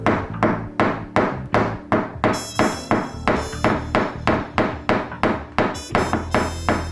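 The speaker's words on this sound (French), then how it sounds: "De petits coups portés avec le manche d'un marteau suffisent à retendre la tôle" Light taps from a hammer handle retension dented car body sheet metal, a steady series of about twenty sharp, evenly spaced knocks, close and loud, with a faint metallic ring.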